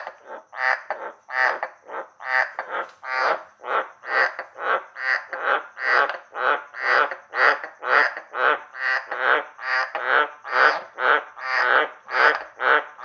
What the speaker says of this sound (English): I wanted a bunch of frogs in there making noise